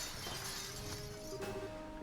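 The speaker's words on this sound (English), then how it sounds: "I just probably shattered the window and crawled under the bed" Window glass shattering in the game Trails in the Sky SC, a single breaking crash over a steady background hum with faint musical tones.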